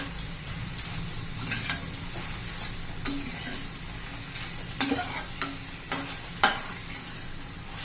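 A spoon stirs capsicum mixed with coarsely crushed peanuts in a pan, making several close scraping clanks over a soft, steady frying sizzle.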